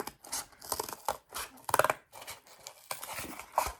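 Scissors snip through cardboard in a run of close, crisp cuts with short pauses between the strokes, and no voices are heard.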